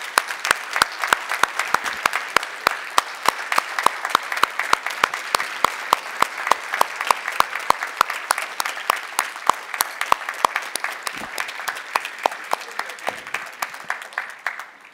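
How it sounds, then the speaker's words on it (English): Long, steady round of applause from a conference audience for the TEPHINET team at the closing ceremony of the 10th TEPHINET Global Scientific Conference, dense many-handed clapping holding at a loud level throughout. "I'd like them to stand up and to have a round of applause"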